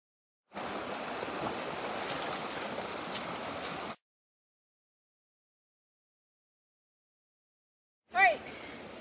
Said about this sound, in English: We crossed the creek, but we got wet.